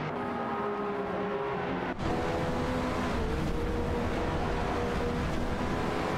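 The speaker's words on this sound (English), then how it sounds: "Exciting battle for 8th place between Wacht in an Aston Martin Vantage 18 and Rizaldi Adar in a McLaren F1 GT." An Aston Martin Vantage and a McLaren F1 GT race each other in a racing video game, their engines making a loud, continuous droning roar that holds steady throughout.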